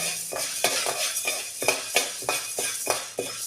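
Urad dal lentils dry-roasting in a pan for sambar powder, stirred with a metal spoon: a rhythmic series of scrapes and clinks about every third of a second, with a soft rattling hiss of grains between strokes, close and fairly quiet.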